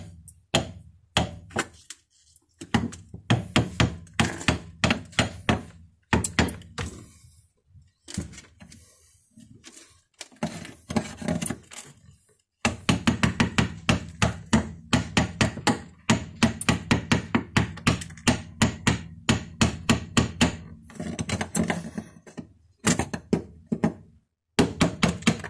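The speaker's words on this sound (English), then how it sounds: "So what I do is I put my chisel underneath it." A hand chisel chips and breaks chunks of ice, producing many sharp, close knocks and cracking impacts in irregular bursts, with one dense stretch of rapid strikes and brief pauses between.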